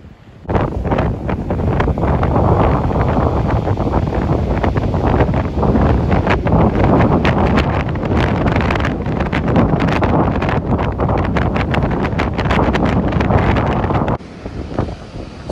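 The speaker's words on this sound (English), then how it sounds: "Sorry, trying to keep you out of the wind." Strong, savage wind battering a microphone on Seaton Beach in the UK during stormy sea angling conditions, a loud continuous roar and buffeting that holds steady for almost the whole stretch and then eases slightly.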